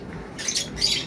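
Pet birds give a couple of short, bright squawks and chirps close by, over a quiet indoor background.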